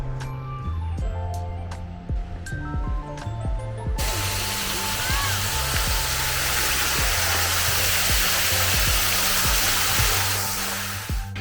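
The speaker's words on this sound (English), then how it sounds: "got a little running stream going through it" Small running stream flowing through park gardens in Riyadh, a steady broadband rush of water that takes over after the first few seconds, continuous and fairly loud, with a low hum and a few tonal clicks at the start.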